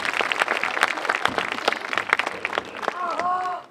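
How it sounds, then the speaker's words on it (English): Outdoor theatre audience at a comedic Julius Caesar performance applauds with dense, steady clapping, with a voice talking over it near the end. "Give him a round of applause."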